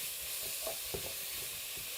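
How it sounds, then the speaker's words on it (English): Chopped onion frying in oil in a pan for minestrone, a constant close hiss of sizzling with a few soft stirring scrapes and clicks, no talking. "It's sizzling away really nicely in the oil."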